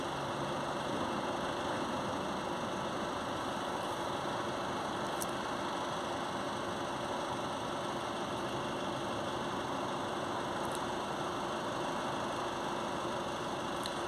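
A coach bus engine runs with a steady low rumble and hum, continuous and even throughout, heard from inside the vehicle.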